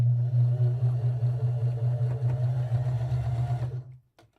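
A sewing machine runs continuously while stitching a quilt seam with a quarter-inch presser foot, a steady close mechanical whirr with a rapid needle rhythm that stops abruptly near the end, leaving near silence.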